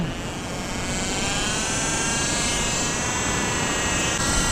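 Aeroo Pro fishing drone flying out on autopilot in bad weather, giving a steady high-pitched whine of propellers and motors under constant wind noise, with no talk.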